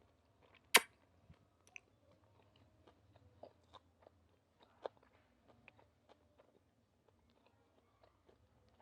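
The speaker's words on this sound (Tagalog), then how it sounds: "Yung crunchy ng veggies." Crunchy vegetables such as carrot in a salmon volcano chirashi bowl are chewed in sparse, quiet crisp bites, one sharp crunch early on and then softer scattered chews with near silence between them.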